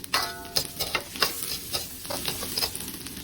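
Garlic, ginger and chilies sizzle in a frying pan as a utensil stirs and scrapes through them in quick, uneven strokes, close and fairly loud.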